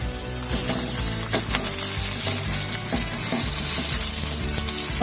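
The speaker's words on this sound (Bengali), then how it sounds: "এর মধ্যে আমি দিয়ে দিচ্ছি কুচনো টমেটো" Chopped tomato hits a pan of frying masala for a cabbage paneer dish, raising a loud, steady sizzle with clinks of stirring, close and without talk.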